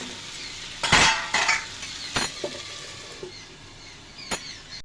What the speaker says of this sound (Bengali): এবার কাঁকড়াগুলোকে ঢাকনা দিয়ে দু থেকে তিনবার আমি কষিয়ে নেবো